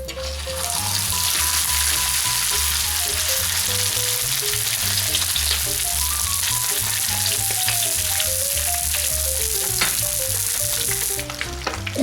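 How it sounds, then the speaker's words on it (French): Brick pastry filled with egg and tuna frying in hot oil, a steady dense sizzle running throughout at an even, close level, with music playing over it the whole time and no talking. "on va refermer notre brique et on va la mettre à frire"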